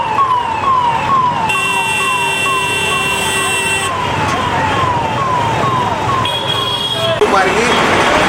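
A loud ambulance siren wails in a rapid repeating up-and-down pattern, then shifts to a faster yelp, while the vehicle sits stuck in a traffic jam on a busy road in Ratlam, with engine and street noise around it.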